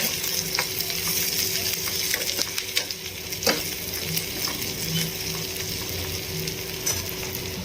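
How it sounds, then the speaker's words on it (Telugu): Onions frying in oil in a home kitchen until brown, with a constant crackling sizzle and repeated scraping and stirring clatter close by, no talk over it. "ఉల్లిగడ్డ కొంచెం మంచిగా బ్రౌన్ కలర్ వేయించుకుంటే కర్రీ టేస్ట్ వస్తుంది"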